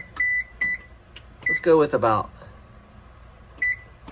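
An oven control panel gives several short electronic beeps while a preheat temperature is set, with a pair of beeps at the start, more in the middle and one near the end, and someone talking briefly between them.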